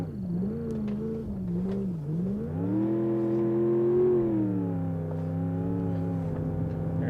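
The Gavril H-25 car in the BeamNG.drive video game drifts while its engine wavers in pitch, then revs up and holds a loud, steady tone before easing back.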